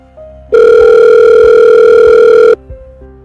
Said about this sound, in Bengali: এমন সময় ফোনটা বেজে উঠল